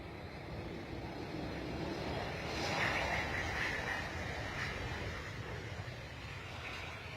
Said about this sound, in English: another one on distant departure